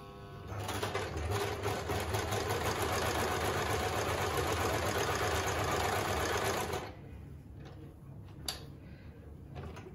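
A Victoria 860F sewing machine runs a straight stitch with its thread tension set to 3, a steady loud mechanical whir and rapid ticking for about seven seconds that then stops, leaving quiet handling sounds.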